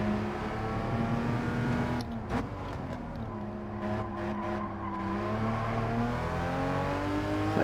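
A Porsche Cayman GT4 lapping the Deep Forest track, its engine droning steadily near and loud with rising and falling pitch through gear changes, and brief sharper bursts partway through.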